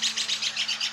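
A small bird chirps outdoors in a quick, regular series of bright tweets, about six or seven in a second, fairly close and clear over a faint low hum.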